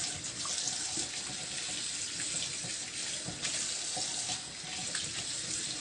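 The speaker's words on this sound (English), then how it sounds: "I'm running warm water on it to have a proper cleaning" Warm tap water runs steadily over raw chicken in a kitchen sink during cleaning, a continuous close splashing rush with no talk.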